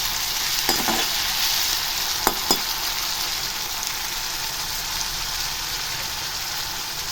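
Ginger garlic paste sautés in hot oil for chicken gravy, giving a steady, loud, hissing sizzle with a few brief scrapes near the start, close up and without voices.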